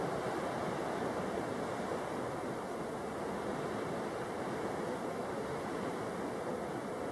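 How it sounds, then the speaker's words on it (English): Wind buffeting the open marsh by the 360 hide at Frampton Marsh on a blustery day, a constant broadband roar with no letup and no voices. "It's a windy old day today."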